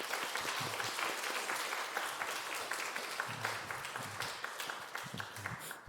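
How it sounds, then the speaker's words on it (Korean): A crowd claps steadily for several seconds, dense and sustained applause filling the room with no talking over it. "우리 격려의 박수 한번 들어가겠습니다."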